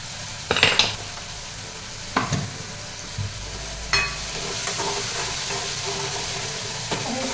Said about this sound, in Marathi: चांगलं तरी तेलामध्ये परतून घ्यायचं